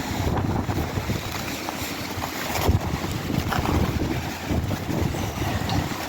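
Strong, cold wind buffets the microphone outdoors as a steady, gusty roar with surging peaks, loud and close, with no one talking.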